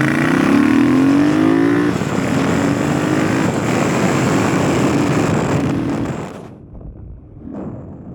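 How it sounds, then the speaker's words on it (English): Triumph Bonneville T120 motorcycle, lightweight with traction control switched off, accelerating hard with a loud rising engine roar that climbs in pitch through gear changes, then drops away abruptly near the end as it passes or cuts off. "It accelerates really well now, and mainly because it's so light."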